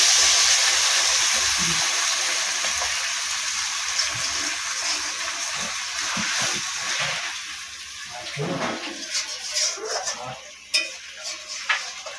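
Water added to a pan of spiced fish curry, a close hiss and bubbling that dies down into softer stirring and clinks of a utensil against the pan.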